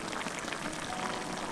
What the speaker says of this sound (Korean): 보글보글 끓여주세요.